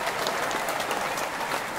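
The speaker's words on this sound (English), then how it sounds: "Can we get a round of applause, Jarvis, for Trevor's Nasty Stat segment?" Steady studio audience applause fills the room on a morning sports talk show, dense and even clapping with no voices over it for the whole stretch.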